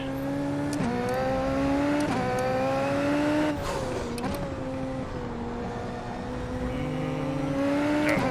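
A Super Formula race car engine in iRacing at Fuji drones loud and close, its pitch climbing through several gear shifts with short dips between rising revs, with no talking over it.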